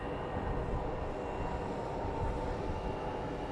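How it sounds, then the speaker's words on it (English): A JetBlue airliner in NYPD livery, arriving from New York, lands at Phoenix Sky Harbor airport at night, heard as a steady, fairly faint engine roar and broadband rumble that holds level throughout. "And here's our JetBlue coming in from New York with their NYPD livery."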